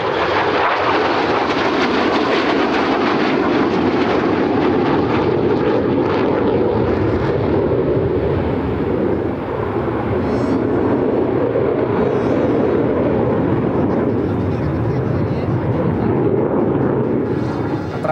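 A MiG-29 fighter jet roars past at an air show, its loud broadband engine noise filling the whole stretch steadily without letting up, with no voices over it.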